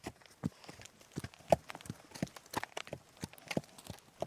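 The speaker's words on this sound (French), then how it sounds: "venu de nulle part arrive le cheval blanc trottant tranquillement" A white horse's hooves clip-clop in a steady trotting rhythm, a series of sharp distinct beats at moderate distance with no voices.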